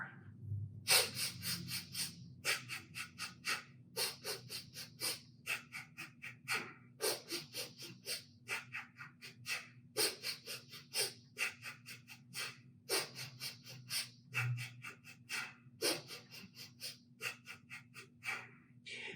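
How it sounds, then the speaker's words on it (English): Breath of fire yoga breathing in a class for healthy aging, quick rhythmic nasal inhales and exhales in steady bursts, close and clear, with no talking over it. "5 quick inhales, 5 quick exhales. In and out of your nose if you can. Breath of fire."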